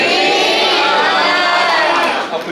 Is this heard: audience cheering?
yes